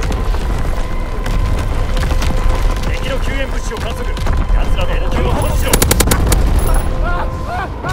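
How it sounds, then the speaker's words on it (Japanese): Battlefield gunfire and explosions rattle through a Call of Duty: WWII match, with dense overlapping shots, booms and a fast burst of machine-gun fire near the end, while a radio voice gives announcements in Japanese. "敵の砲撃だ。"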